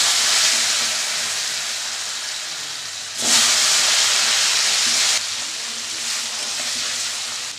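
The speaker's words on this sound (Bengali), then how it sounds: "এই তেলের মধ্যে আমি আলুটা ভেজে নেব।" Potatoes frying in hot oil for an egg curry, a loud dense hiss of sizzling that surges sharply partway through and then settles to a steadier sizzle, with no talk.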